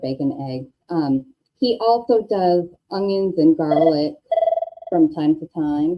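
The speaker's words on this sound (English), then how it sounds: "Sorry about the phone." A telephone rings briefly with a steady electronic tone, heard under and between a woman's continuous conversation.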